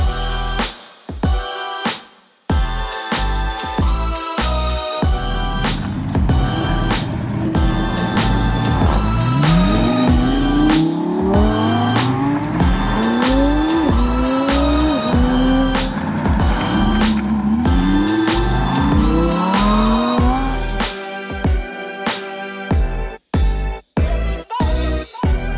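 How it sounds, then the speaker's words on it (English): Supercars in a convoy start up and rev repeatedly, with engine pitch climbing and falling in rising sweeps that are loud and close, then settling to an idle rumble. "And since the engines are starting"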